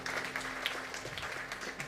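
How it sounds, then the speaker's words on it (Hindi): Congregation applause at a church service: steady, dense clapping from a crowd, fairly near and continuous with scattered sharper claps and a sustained tone underneath. "Let's clap our hands."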